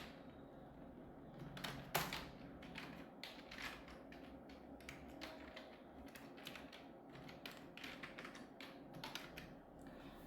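Fingers type on a computer keyboard while filling an Excel spreadsheet, a rapid run of close, quiet key clicks with one louder thump near the start.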